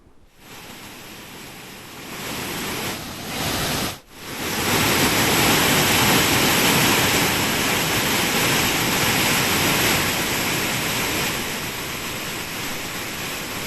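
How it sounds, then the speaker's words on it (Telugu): A powerful waterfall roars continuously, a dense, heavy rush of gushing floodwater after heavy rains at Kothapalli falls, Paderu, that swells louder after a brief dip and stays steady to the end. "పరవళ్లు తొక్కుతున్నాయి కొత్తపల్లి జలపాతాలు ఉధృతంగా వరద నీరు ప్రవహిస్తోంది"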